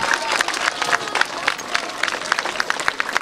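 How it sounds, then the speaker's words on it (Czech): Applause from a crowd outdoors at the ceremonial opening of an open-air swimming pool, brisk, slightly uneven clapping from a modest group of people, steady through the whole moment. "Tak velký potlesk."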